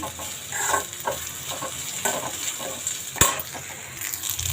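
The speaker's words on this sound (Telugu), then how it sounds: "అల్లం వేయగానే మనం పచ్చిమిర్చి కరివేపాకు కూడా వేసేసుకుందాము ఇవి మొత్తం మూడు బాగా వేసుకుందాము" Ginger, green chillies and curry leaves sizzle in hot oil for mustard pulihora, a steady frying hiss broken by stirring scrapes and one sharp clack near the middle.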